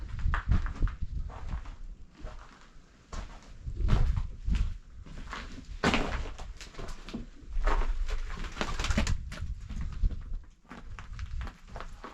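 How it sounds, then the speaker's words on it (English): Pigeons flap and scuffle inside a building, wingbeats bursting up in loud clusters with soft coos and footstep-like shuffles between, close to the listener and with no talking. "There's nothing like pigeons flying up in your face."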